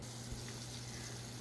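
Water added to masala for a spice-only biryani cooking on low heat, a brief steady gushing and bubbling wash with a low hum underneath, close and even, no talking.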